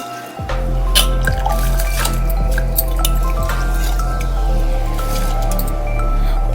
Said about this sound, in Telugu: ఇప్పుడు బియ్యం వేస్తున్నాను.